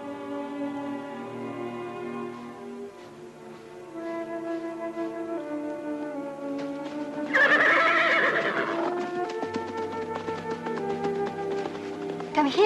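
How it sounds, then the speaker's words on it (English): Horses made nervous by a nearby wolf pack let out a loud, shrill whinny over a backdrop of orchestral film music. "Wolfpack. They're making the horses nervous."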